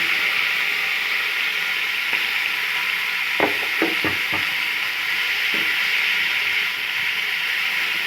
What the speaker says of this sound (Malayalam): ഒരു വലിയ സവാളയും അതുപോലെ തന്നെ ഒരു ഒരു ഒന്നര തക്കാളിയും കൊടുത്തിട്ട് ഒന്ന് വഴറ്റിയെടുക്കട്ടോ നമുക്ക്